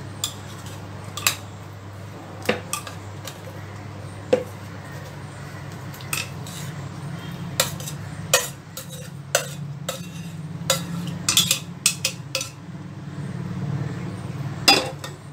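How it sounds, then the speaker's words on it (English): Apple pie filling scraped and spooned into a baking dish, with repeated light clinks and scrapes of a utensil against the dish over a low steady background hum, close and fairly quiet. "going to put our stuffing into the baking dish now"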